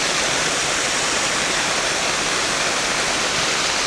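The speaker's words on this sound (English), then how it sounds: "There's the waterfall going off over the edge." Waterfall in central Montana pouring over a mountain edge, a loud, constant broadband roar that fills the whole stretch with no pauses and no voices.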